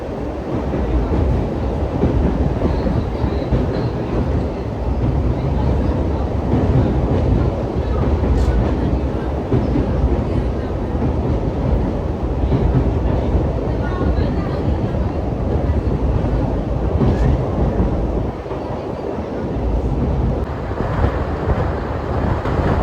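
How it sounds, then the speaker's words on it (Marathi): A passenger train bound for Rameswaram rumbles steadily and loudly from inside the carriage, a continuous roar with wheel noise and occasional faint clacks throughout. "रामेश्वरमला या पैसेंजर ट्रेन में।"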